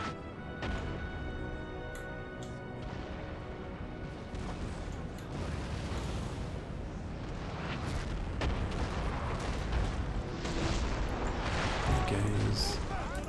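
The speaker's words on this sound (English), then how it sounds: "Guys, stop shooting until you get a better chance to hit." Musket volleys and artillery fire from a Napoleon: Total War battle on the Egyptian campaign rumble and crack continuously, with booms layered over a dense battlefield din that grows louder toward the end.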